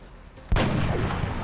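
A loud, sharp gunshot from a video game bursts in partway through and rolls into a long, booming echo that fills the rest of the moment, with no one talking.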